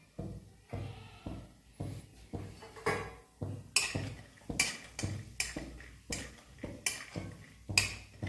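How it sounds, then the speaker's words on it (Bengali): Peanuts fry in hot ghee while being stirred steadily, giving a regular series of knocks and scrapes against the pan over a soft background sizzle. "এবার ঘিটা গরম হয়েছে, কেমন? এবার এখানে এই চীনাবাদামটা একটু ভাজার জন্য দিয়েছি।"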